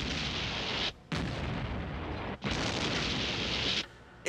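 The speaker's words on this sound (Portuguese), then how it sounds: "Explosões!" Three heavy booming blasts roll out one after another, each long and rumbling with brief gaps between, loud and close.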